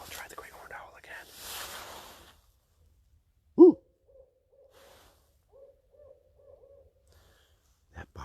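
A single short, deep hoot, a human imitation of a great horned owl's call, stands out in a quiet night, with faint murmuring before it and a soft thump at the end.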